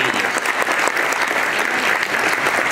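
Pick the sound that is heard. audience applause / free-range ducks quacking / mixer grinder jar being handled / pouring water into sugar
audience applause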